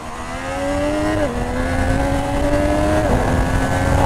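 A 2020 Triumph Street Triple 765 RS motorcycle revs hard under acceleration, its engine note climbing steadily with two quick dips as the quickshifter snaps through gears, loud and close with wind rush underneath.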